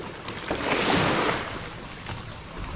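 A boat motor drones at sea, swelling louder then fading as it passes, with wind and water wash around it.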